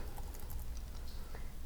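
Light tapping on a computer keyboard as someone types code for a Minecraft mod, a soft irregular patter of keystrokes close by with no talking.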